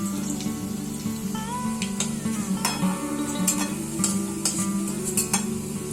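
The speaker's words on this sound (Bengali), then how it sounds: "বড়াগুলো উল্টে পাল্টে সোনালী রং ধরা পর্যন্ত ভেজে নেব।" Bengali fish egg fritters fry in hot oil as they are turned until golden, giving a steady close sizzle with occasional clinks and stirring scrapes, and no voices.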